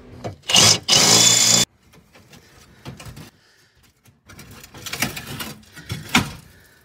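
Sheet metal patch being ripped out of a 2008 Jeep Wrangler JK floor pan, with two loud, harsh tearing bursts up front, then scattered metallic clunks and scrapes and another rough grinding stretch near the end.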